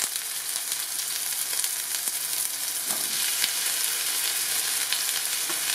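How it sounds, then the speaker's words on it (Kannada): Chopped medium onions hit a hot pan while cooking mutton sambar and fry with a steady, continuous sizzle. A faint clink or two sounds over the hiss, with no talking. "ಮಧ್ಯಮ ಗಾತ್ರದ ಈರುಳ್ಳಿಯನ್ನ ಕಟ್ ಮಾಡಿ ಇಟ್ಕೊಂಡಿರೋದನ್ನ ಹಾಕ್ತಾ ಇದೀನಿ"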